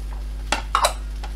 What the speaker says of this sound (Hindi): अब यहाँ पे मैं अपने आलू को डाल दूंगी।